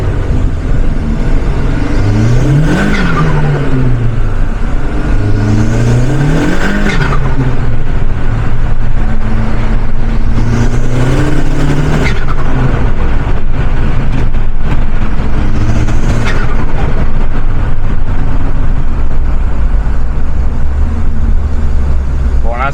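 A warmed-up Volkswagen Golf engine pulls hard through repeated rising revs and gear changes, heard loud from inside the car under a steady road roar. Someone speaks at points.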